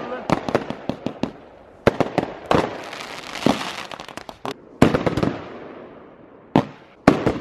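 Fireworks rockets crushed and burning at an army area, giving sharp crackling pops and bangs in irregular bursts, some close and loud, with hissing fizz between them and people talking over it.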